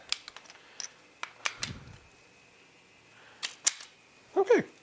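Sharp plastic clicks and snaps come from a part of a Dewalt DWPW2100 pressure washer being fitted into place. The clicks are scattered and close, with a short fumbling rustle between them and a brief voice near the end.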